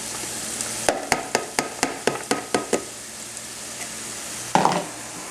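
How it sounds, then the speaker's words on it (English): Carrots sauté in a hot pan with a steady sizzle while a utensil taps and scrapes in a quick run of about ten strokes, then one more stir. "I'm going to saute this together for 5 minutes."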